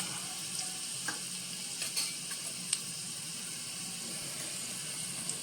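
Mustard seeds and a pinch of cumin sizzle in hot oil with green chillies, a steady soft frying hiss with scattered small pops and crackles, fairly faint and heard alone.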